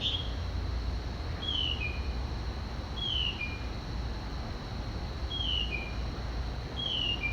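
Mockingbird giving a different call, played back from a phone recording: a short two-part downslurred whistle repeated about five times at even intervals over steady background hiss.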